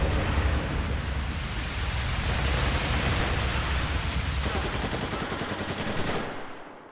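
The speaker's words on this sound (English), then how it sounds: "I heard gunfire." Gunfire in the multiplayer mode of the video game Spec Ops: The Line: loud, dense bursts of rapid automatic fire overlapping into a continuous roar, cutting off abruptly near the end.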